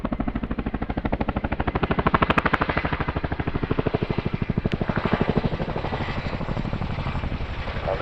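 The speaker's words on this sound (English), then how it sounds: "Get ready to hear the Chinook's iconic blade slap" A Chinook helicopter at an airshow gives off a rapid, steady thudding blade slap, loud and close, pulsing evenly throughout with a rotor roar beneath and no talking.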